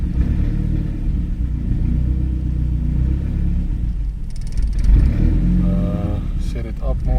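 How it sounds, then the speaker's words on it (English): Turbocharged Audi A4 B7 engine holds a steady, low rumbling idle close by, loud and continuous with slight unevenness, while faint clicks and tones sound toward the end. "But now I think just for idling I should maybe trim it up a bit"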